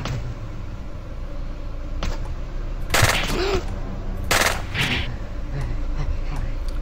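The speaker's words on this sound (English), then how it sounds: "Let's go with the machine pistol." A machine pistol fires in the video game Nuclear Outrun. Several short bursts of gunfire ring out over steady game background noise, with the loudest shots landing near the middle.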